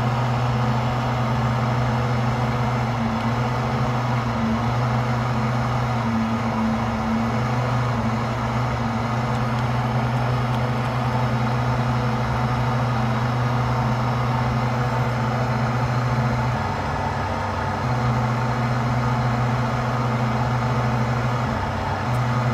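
Steady lawn mower engine drone in Lawn Mowing Simulator, a continuous low hum running unbroken and fairly loud, with no voices over it.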